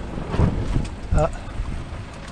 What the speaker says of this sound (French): le vent a repris